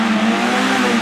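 A car engine in a video game drones loud and close as the accelerator is pressed, holding a steady, buzzy tone for about a second with no voices over it.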